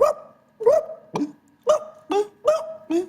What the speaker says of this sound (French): Faudra un son de chien kabyle, tu vois.